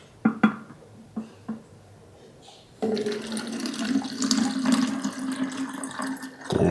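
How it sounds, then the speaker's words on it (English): Water pours steadily from a watering can onto potted variegated plants during repotting, a continuous splashing rush after a few faint knocks and taps. "So I got my water bottle here, my watering can, to make sure I get everything nice and damp"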